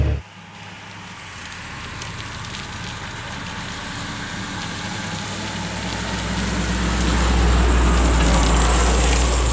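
A British Mastiff armoured vehicle drives along with a low, rumbling engine and road roar that steadily grows louder and heavier.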